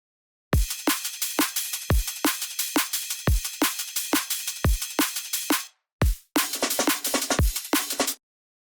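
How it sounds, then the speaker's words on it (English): A punchy drum and bass loop with deep kicks and crisp, sharp snares at a fast, driving tempo, cutting out briefly before resuming. "So if we just solo the drums on the second part,"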